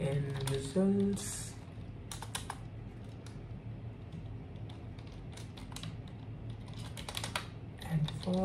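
Fingers type code on a computer keyboard, a fast run of light clicks and clacks close by, continuing steadily with a few pauses while someone talks quietly over it.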